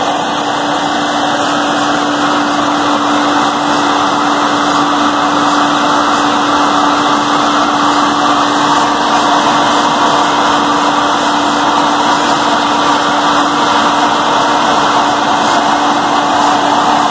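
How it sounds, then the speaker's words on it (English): A steady, loud mechanical drone with a constant low hum from a grain corn dryer running up close during corn harvest, without a break, with no voices. "The corn dryer!"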